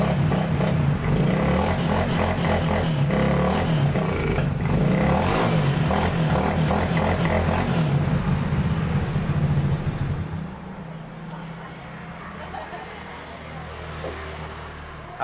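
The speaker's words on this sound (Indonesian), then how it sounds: "Kita hidupkan motornya." A Honda Beat FI motorcycle engine runs at a loud, steady idle close by in a repair shop, then drops to a quieter, lower running hum for the last few seconds.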